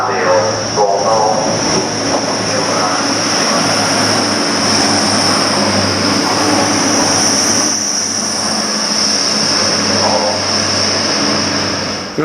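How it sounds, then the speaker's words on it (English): Class 91 electric train pulling into a station, a loud, sustained rumble with a high, steady whine and squealing wheels as it draws in close, station noise around it. "our train is coming in here now. It's a 91."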